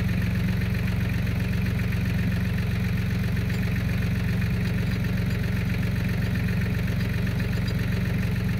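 A diesel-powered torsion bar remover runs steadily throughout, a continuous low, rumbling idle-like drone with no breaks, heard during suspension removal on a 1975 Plymouth Valiant A-body.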